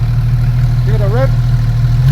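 A Porsche 991 Carrera S with a performance exhaust idles with a steady, throbbing low burble up close, while someone talks briefly over it mid-clip.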